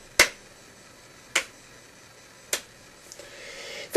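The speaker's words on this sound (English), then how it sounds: "David, for that piece of idiocy, you get a golf clap." A slow, sarcastic golf clap: three sharp, isolated hand claps spaced just over a second apart, close and crisp, with faint rustling and another clap starting at the end.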